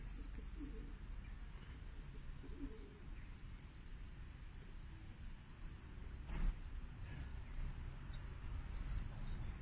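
A pigeon out in the open coos, with a few soft calls and a brief flutter of wings against steady outdoor background noise.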